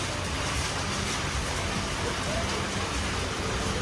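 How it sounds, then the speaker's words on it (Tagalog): Heavy rain pours steadily on an island resort in Boracay during a power outage, a dense, unbroken roar that fills the whole clip at close range. "Lakas ng ulan."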